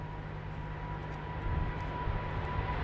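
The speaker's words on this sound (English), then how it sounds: "It's KLM's big Boeing" A KLM Boeing 777-300 at Schiphol gives off a low, steady engine rumble with a faint whine above it, heard at some distance. The rumble swells slightly toward the end.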